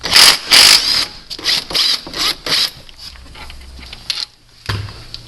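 A jack is worked under the engine of a 2.4 PT Cruiser, giving a series of loud, close, rhythmic mechanical ratcheting bursts that slow and thin out toward the end.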